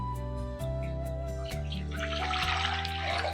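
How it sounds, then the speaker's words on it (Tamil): Water is poured into half a litre of milk, a short splashing rush in the last second and a half over steady background tones. "நான் 1/2 லிட்டர் பாலுக்கு வந்து 1 கப்பு தண்ணி வந்து சேர்த்துருக்குறேன்"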